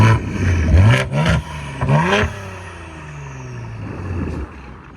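A 2023 Ford Explorer ST with a 3.0L EcoBoost V6, downpipes and valved exhaust, revving loudly in a few quick rising bursts before settling back to a steady idle.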